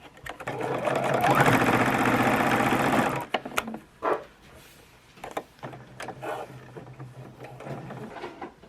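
A home sewing machine runs steadily at close range for about three seconds while stitching a blind hem, then falls silent; quiet handling noises and fabric rustles follow.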